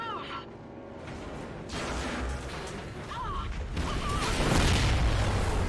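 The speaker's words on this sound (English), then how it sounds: "That's an explosion" A rumbling explosion in the Call of Duty: Ghosts space level, building from broadband roar into a loud, sustained low boom with crackling debris, layered with radio chatter and game effects.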